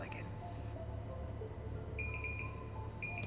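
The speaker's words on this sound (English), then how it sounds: "Oh, I don't like that beep." In Final Fantasy VII Remake, an electronic alarm gives short high beeps in quick repeating bursts late in the moment, over a constant ambient hum and low background music.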